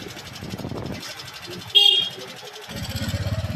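A motorcycle engine drones with a rhythmic pulsing throb on a ride with friends, loud and close, with a short horn-like beep midway and people talking over it.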